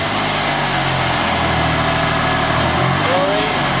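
A car engine with a misfire fault runs steadily at idle right after a fuel injector replacement, a loud continuous low rumble close to the microphone with no talk over it.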